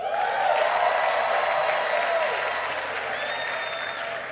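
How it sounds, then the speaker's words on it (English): A Nigerian crowd at a Thanksgiving gathering in a place of worship bursts into loud, sustained applause mixed with shouts and cheers, steady throughout and close by. "You see the type of clap and shout."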